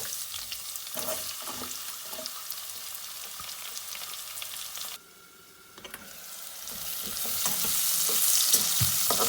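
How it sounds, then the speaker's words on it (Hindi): Onions and garlic sizzle in a hot pan with scraping stir sounds; the frying briefly quiets midway, then returns louder and hissier. "अब इसके अंदर हम लोग प्याज ऐड कर देंगे।"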